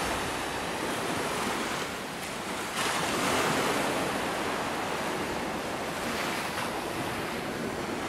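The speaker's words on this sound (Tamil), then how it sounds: "இந்த பாறை வரைக்கும் அப்போ வந்து கடல் அலை வந்துகிட்டே இருக்குது" Sea waves wash onto rocks at Silver Beach, a continuous broad roar of surf with swells rising and falling, mixed with wind noise on the microphone and no voices.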